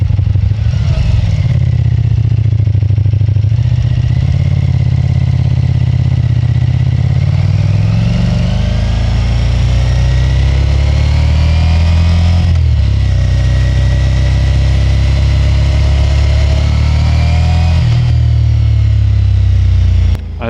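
A 2025 Ducati XDiavel V4 motorcycle engine drones loudly and continuously while riding, with gear changes shifting the pitch and steady wind rush throughout.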